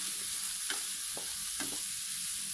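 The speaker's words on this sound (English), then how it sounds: "So I'm adding the vegetable now, the aromatics." Aromatic vegetables for a bolognese sauce sizzle quietly in a pan, with a few soft scraping stirs of a spoon breaking through the steady low frying hiss.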